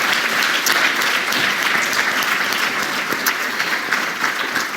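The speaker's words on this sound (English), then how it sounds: "I want to give this panel a huge round of applause for their statements and input," Steady, full applause from a conference audience for a discussion panel, dense continuous clapping at an even level from start to finish with no talk over it.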